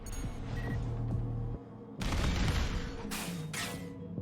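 Weapons fire in the mech combat video game Armored Core VI, heavy booming bursts and rattling shots against a droning engine hum, loud and close, broken by a brief lull.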